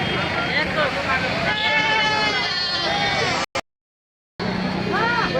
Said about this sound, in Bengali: দেখুন সেই সাটুরিয়া হাটের ঈদুল আজহার ছাগলের হাট কত সুন্দর সুন্দর ছাগল এখানে উঠেছে